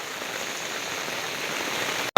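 Heavy rain in a Gujarati village, a steady dense hiss of drops on surfaces that holds at an even level throughout, breaking off abruptly near the end.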